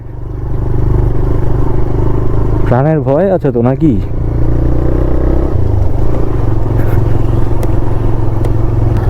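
A TVS motorcycle engine rumbles steadily with rattling and clattering over a badly broken road in Nepal, and someone speaks briefly over the noise.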